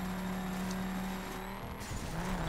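A VW Touareg rally car in the racing game The Crew roars steadily with engine drone and faint tire noise, the tone dipping and shifting near the end, loud and continuous with no voices.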